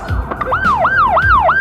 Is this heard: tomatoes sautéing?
no